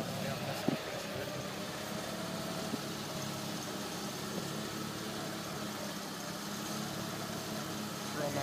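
A Snapper 1855a garden tractor engine idles with a steady, moderately loud rumble and a faint rattle throughout, with no clear change in pace.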